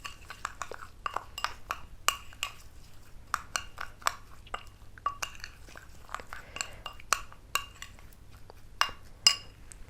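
A spoon stirs a homemade strawberry face scrub with rice flour in a bowl, giving sharp scattered clinks against the bowl at an uneven pace over faint background hiss.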